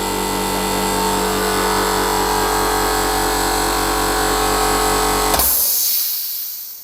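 Cheap Amazon air compressor for DIY use running loud and steady with a constant motor drone, then abruptly cut off near the end and falling to quiet.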